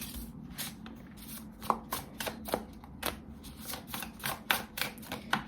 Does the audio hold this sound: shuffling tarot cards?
yes